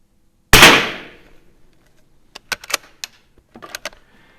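A Mossberg 146BA tube-fed bolt-action .22 rifle fires a single sharp, close shot that rings off quickly. Several crisp metallic clicks follow as the bolt is worked.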